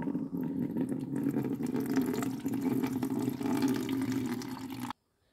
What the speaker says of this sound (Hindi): 10 लीटर में डाल देंगे, लीटर डाल देंगे ब्रह्मास्त्र।